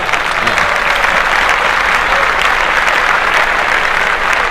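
Canned applause fires from a sound-effect button during a podcast, a dense, steady burst of clapping and crowd noise filling the whole stretch at an even, fairly loud level.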